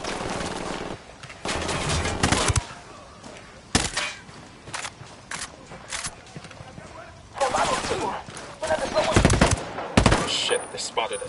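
Gunfire in the video game Ghost Recon Wildlands: loud bursts of automatic fire and sharp single shots in irregular clusters, close up, with gaps of quieter ambience and a voice briefly heard between volleys.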